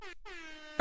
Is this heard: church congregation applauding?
no